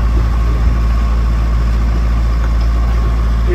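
A steady low boat engine drone runs throughout, a constant motor hum with no breaks and no voices, while motoring at sea between Turkey and Greece.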